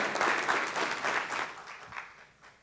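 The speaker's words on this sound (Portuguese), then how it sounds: "Vamos dar uma salva de palmas para dar uma recepção calorosa para ela" A forum audience gives warm applause to welcome a speaker, a short, even burst of clapping that fades slightly toward the end.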